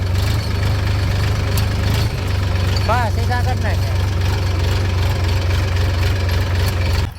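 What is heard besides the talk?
tractor engine idling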